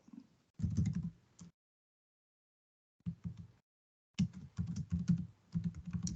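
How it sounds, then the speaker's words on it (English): Rapid clattering keystrokes on a noisy computer keyboard come in three bursts with clear silent gaps between them, close and fairly loud, with no one speaking. "Sorry, that's me just typing in my players."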